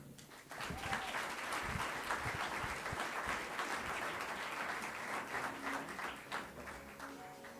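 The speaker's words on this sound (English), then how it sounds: "give him another round of applause, ladies and gentlemen." Sustained audience applause at an athletics awards ceremony, many hands clapping steadily at moderate level throughout, with a few faint voices mixed in.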